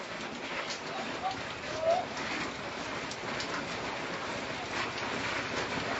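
Continuous hiss of typhoon rain falling on surfaces, fairly close, with a faint background voice murmuring beneath it.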